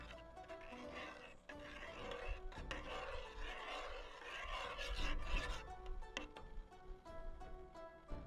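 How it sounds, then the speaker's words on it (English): A spoon keeps scraping and rubbing through thickening mooncake filling in a pot, making a steady rasping stir that runs continuously at close range with occasional louder strokes. "I'm just going to keep stirring it until it thickens"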